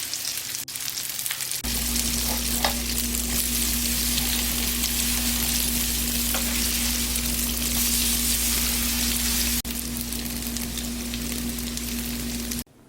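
Spoonfuls of enoki mushroom pancake batter fry in oil with a continuous close sizzle and light popping, over a faint steady hum, with no talking.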